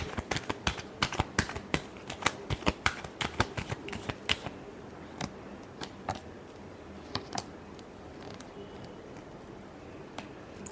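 Tarot cards are shuffled in a final round of rapid papery riffles and snaps, dense at first and then thinning to scattered soft taps. The sound is quiet and close, with no talking.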